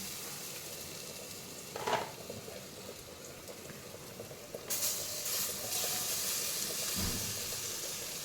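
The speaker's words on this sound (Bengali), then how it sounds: "এবার আমি এটাকে তেলের মধ্যে দিয়ে দিচ্ছি।" Coarse ground lentil paste for dhokar dalna dropped into hot oil in a pan, a steady faint sizzle with a sharp burst of frying hiss midway and a few clinks and stirring scrapes.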